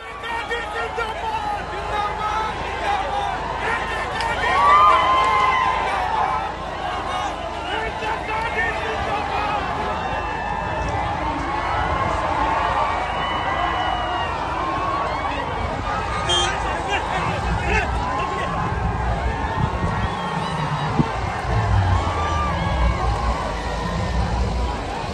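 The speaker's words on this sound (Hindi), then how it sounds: "रैली का नजारा देखिए किस तरह से भीड़ वहां पर उमड़ी पड़ी है" A large crowd massed at Priyanka Gandhi Vadra's political rally gives off a continuous, dense hubbub of voices and movement, steady and loud across the whole stretch, with occasional swells like distant cheering.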